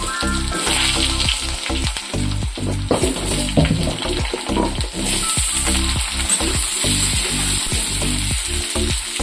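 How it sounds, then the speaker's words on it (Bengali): Potato pieces deep-frying in hot oil for egg fritters, a loud, steady sizzle with repeated clacks of a utensil stirring the pan throughout. "এভাবে আলুটা ভেজে নেব।"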